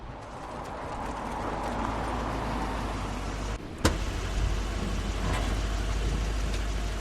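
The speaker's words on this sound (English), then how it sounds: "That's Crane's car." A car approaches with a rising, steady engine and tire rumble, fairly close, with a brief sharp click partway through and no talk.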